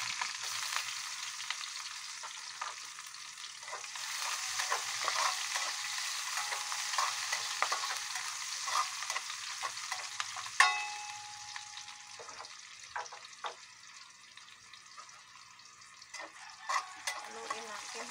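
Garlic and onion sautéing for menudo, a steady close sizzle with occasional stirring scrapes and clatter from a utensil in the pan, running throughout.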